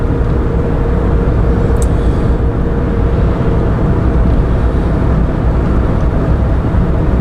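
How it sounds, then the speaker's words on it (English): Steady, loud low-pitched road rumble and engine drone from a car cruising at 80 km/h on a French country road, constant and unbroken with no talking. "This car actually quite enjoys 80 kilometres an hour"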